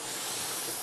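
A spray gun laying down base coat during an auto body paint repair gives a loud, continuous broadband hiss that stays steady from start to finish, with no other sounds.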